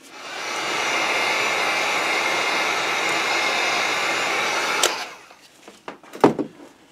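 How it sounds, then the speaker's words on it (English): A heat gun blowing hot air to dry paint runs as a steady, loud whooshing hiss for about five seconds, then cuts off, followed by a few faint clicks and knocks. "All right, heat gun."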